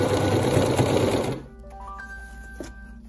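A sewing machine runs a fast, steady stitching burst on recycled fabric for a bag, heard close and loud for over a second, then stops, leaving a quiet room with a faint mechanical tone.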